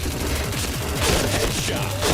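Gunfire in the online shooter Point Blank during a live match: rapid overlapping bursts of shots fired in quick succession, dense and loud, layered with other game effects.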